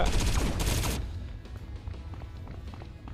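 Gunfire in the video game T3 Arena: a dense, loud burst of rapid shots for about a second, then quieter game sounds with light thuds and footsteps.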